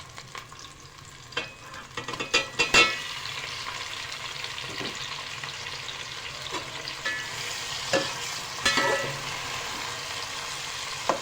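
Onions and tomatoes frying in oil for vegetable pulao, a steady close sizzle running throughout with scattered scrapes and knocks of a spoon stirring the pan.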